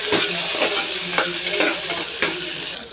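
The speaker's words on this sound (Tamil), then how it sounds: "இப்போ நம்ம எடுத்து வச்சுருக்க தக்காளியும் ஒன்று ஆட் பண்ணிடலாம். இதையும் நல்லா வதக்கிடலாம்." Tomatoes sizzle steadily in a hot pan while a spoon scrapes through them in repeated stirring strokes, close and fairly loud.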